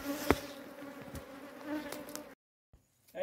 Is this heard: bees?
yes